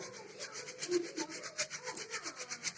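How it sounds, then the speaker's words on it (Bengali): Rice being sifted through a handheld sieve, a soft rhythmic shuffling rasp of grains swishing back and forth in quick even strokes, close and quiet with no talk. "আমি চাল এদিকে চালন দিয়ে চেলে চেলে দিচ্ছি"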